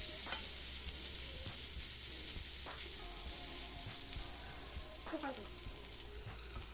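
Pointed gourd (parval) fries in a pan as a side dish, a steady sizzle under intermittent scraping and clinking from stirring, moderately close and fairly quiet.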